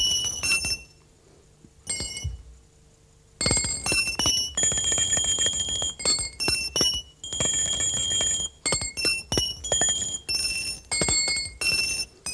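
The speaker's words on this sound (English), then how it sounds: "this make a big sound because this is a big coin" A big coin rings inside a big bell during a stage magic performance, producing bright, sustained metallic chimes in bursts, loud and close, after a quieter stretch at the start, with no talking.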